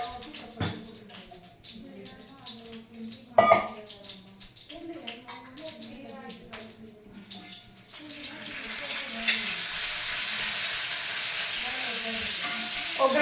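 Mustard seeds hit hot oil for a tempering, starting with scattered pops and clinks, then building into a steady loud sizzle that fills the second half.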